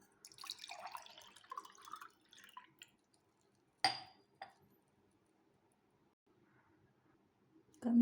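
Homemade lemon juice being strained, a soft trickle and splashing for the first few seconds, then faint, isolated clinks of a glass or utensil in a quiet kitchen.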